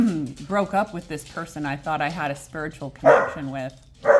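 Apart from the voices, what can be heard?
dogs barking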